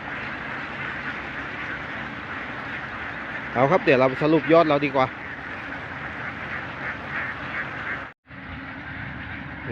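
A big flock of ducks crossing an open field lets out a burst of loud, overlapping quacks for about a second, with someone talking briefly before and after.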